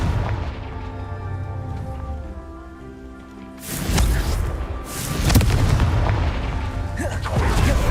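Confringo fire spell explosions from Hogwarts Legacy: after a quieter stretch of game ambience, a sudden loud blast erupts, followed by further crackling bursts and rumbling debris.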